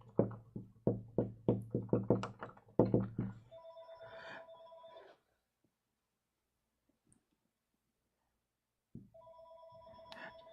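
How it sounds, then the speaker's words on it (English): A telephone rings in a quiet lecture room: a bright electronic ring that sounds, stops for about four seconds, then starts again, preceded by a rapid series of close knocks or clunks. "Just waiting for the phone to stop ringing."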